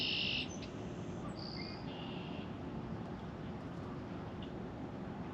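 Red-winged blackbirds trading calls back and forth outdoors, several short high chirps and trills near the start over a steady rustling ambient hiss, with the calls thinning out afterward.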